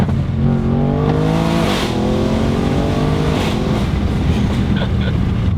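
An Audi RS7 accelerates hard down a straight road, its engine note climbing through rising revs with a shift partway, loud and close from start to finish.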